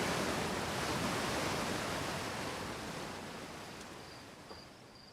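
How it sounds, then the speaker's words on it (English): Waterfall in the video game Outer Wilds: a dense, loud, constant rushing roar filling the whole stretch, easing slightly toward the end, with faint soft tones above it and no talking. "Sorry about the waterfall sound. It's just as loud for me as it is you."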